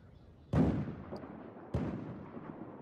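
Grenade explosion in Battlefield 4 multiplayer, a sharp loud blast with a rumbling decay, followed about a second later by a second similar boom amid ongoing battle noise.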